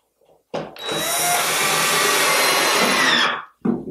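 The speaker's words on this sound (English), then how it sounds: "Put the second screw in, screw that down" A power drill drives a screw down into willow for a chair joint, one continuous high whirring burst of about three seconds that starts abruptly and cuts off, followed by a short knock.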